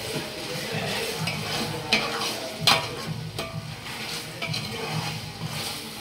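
About five kilos of chicken frying in a large pot, loud sizzling with repeated scraping and stirring strokes and occasional metallic clanks of the utensil against the pot.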